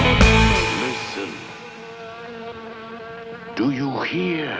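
Buzzing insects swarm through a horror film trailer, a dense whining drone with rising and falling tones that fades mid-clip and then swells again, close and fairly loud.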